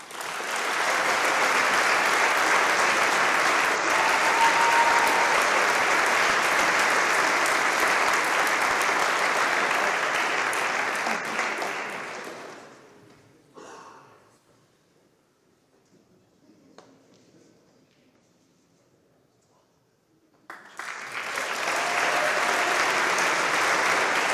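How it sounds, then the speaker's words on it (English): Audience applause for award winners at an annual awards chapel, a long loud sustained round of clapping that fades into near silence with faint scattered noises, then bursts back strongly. "Please hold your applause until I've announced them all."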